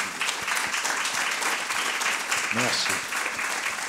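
A conference audience at a talk on exile and asylum applauds warmly in a sustained, even burst; a voice briefly thanks the crowd partway through.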